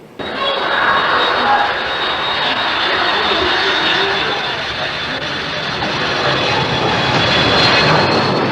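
An old airliner's engines drone as a loud, steady roar heard from inside the cabin, with a voice talking over it throughout.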